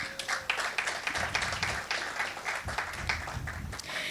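An audience at a travel summit applauds an awardee on stage, a dense patter of many hands clapping that holds steady from start to finish and sounds moderately close.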